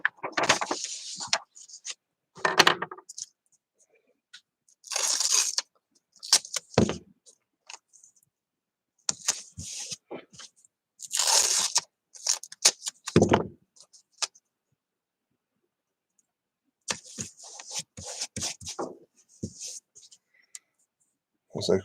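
Knife or scissors cut through sticky-backed paper signs on a workbench in short scratchy bursts separated by quiet pauses, close and crisp.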